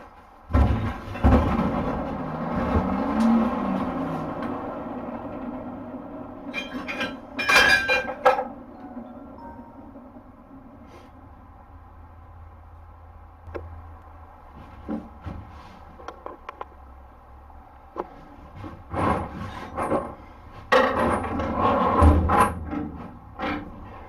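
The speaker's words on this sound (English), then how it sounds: "So I'm going to start forging out these wings" A hammer striking hot steel at an anvil while forging the wings of box jaw tongs, heard as scattered ringing metallic clinks and thuds in short bursts with quieter gaps between them.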